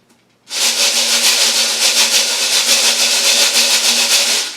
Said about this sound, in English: Listen to the sound, how it's different with the lid off.